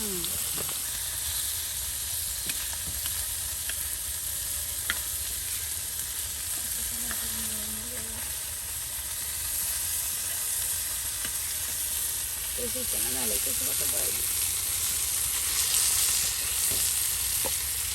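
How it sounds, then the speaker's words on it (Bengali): Small fish fry in a pan over a hot wood-fired clay stove, making a continuous loud sizzle and hiss with faint stirring and utensil clinks throughout. "বাহ, মাছ ভাজা শেষ।"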